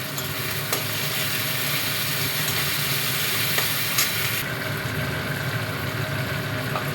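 Onion paste, tomato and green chili frying in a pan, a steady close sizzle with occasional stirring clicks, continuous and fairly loud, with no talking.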